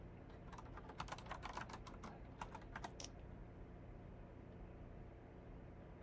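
Fingers type on a computer keyboard while coding, a quick, uneven run of soft key clicks that clusters in bursts and then trails off into a quiet background hum.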